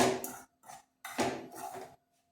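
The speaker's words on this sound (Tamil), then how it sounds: "நல்லா இந்த மாதிரி கிண்டி விட்டுக்கும்" A spoon scrapes through a roasted gram flour mixture in a pan, making a few close, rough stirring strokes in uneven bursts with short pauses between them.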